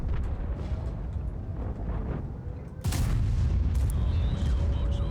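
A tank gun fires in World of Tanks while driving a 60TP heavy tank, one sharp booming blast cutting in over the low rumble of the engine partway through.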